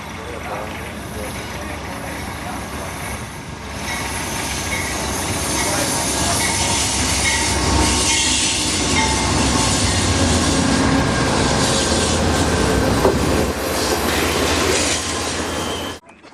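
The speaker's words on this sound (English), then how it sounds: "soon the Coast Starlight pulls out of the station" Amtrak's Coast Starlight passenger train pulls out of the station at Klamath Falls, a loud continuous rumble of rolling cars with clickety-clack and squealing wheels building over several seconds, with voices speaking over it.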